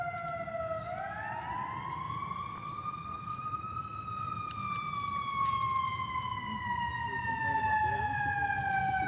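Emergency vehicle sirens wail outside during a funeral eulogy, rising and holding in long sweeping tones over a low rumble of traffic, moderately distant and steady throughout.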